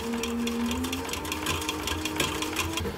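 A sewing machine stitches a short-brim cap, running in a steady, continuous whir with rapid regular needle ticks throughout, close and alone without talk.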